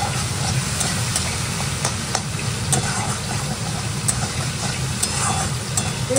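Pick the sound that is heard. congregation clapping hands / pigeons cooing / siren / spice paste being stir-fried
spice paste being stir-fried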